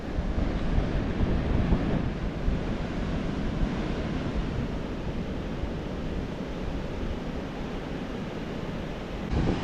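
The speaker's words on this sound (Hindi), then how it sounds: "लहरें वगैरह देख सकते हैं कितनी मस्त आ रही है अभी इस वक्त" Monsoon surf at high tide rolls onto Banaulim Beach in South Goa as a continuous heavy roar of breaking waves, with wind buffeting the microphone and no voices.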